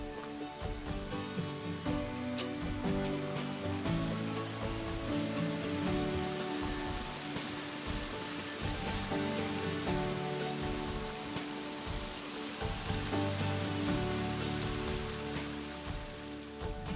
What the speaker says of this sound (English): made it to the Laurel Fork Falls campsite, right at the top of the falls.